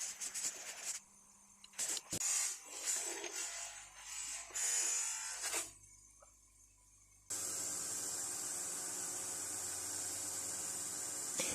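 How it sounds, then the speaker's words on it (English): A bench sander works on a rusty wrench during a tool restoration, giving a loud steady abrasive whir and grind that runs without a break through the latter part, after a stretch of shorter uneven rubbing and grinding bursts. "Right, we'll see what the bench sander does on these."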